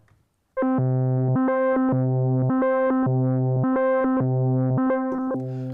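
A sustained synth-like tone through a hardware analog delay pedal with LFO modulation, switching between two pitches in a steady alternating pattern, with a wobbling modulated delay texture, loud and continuous.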